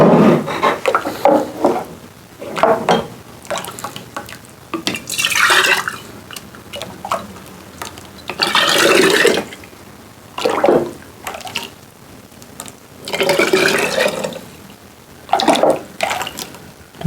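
Homemade coconut lime moonshine poured into bottles, with intermittent splashing and trickling pours in separate bursts and quiet pauses between them.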